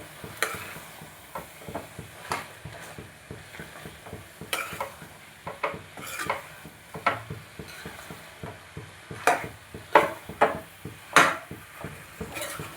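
Cut mushrooms being stirred into cooked tomato masala in a pan, with soft steady sizzling beneath repeated scraping and tapping of a spoon against the pan, close and clear.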